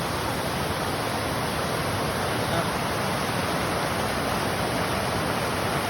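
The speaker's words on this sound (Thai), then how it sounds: "บริเวณน้ำตกชั้นแรกนะครับ" Steady broadband roar of rushing water at the first tier of a multi-tier waterfall in Nam Kaen, Mancha Khiri, Khon Kaen, Thailand, loud and constant throughout with no voices.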